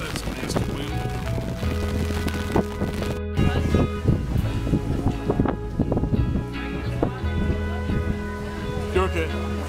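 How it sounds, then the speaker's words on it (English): Strong gusty wind at a harbor pier during a crab and seafood festival, heard as low rumbling buffeting against the microphone, with scattered knocks and voices nearby. "Oh, that's a nasty wind."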